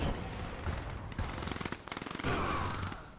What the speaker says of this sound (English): Look at that just squall of grenades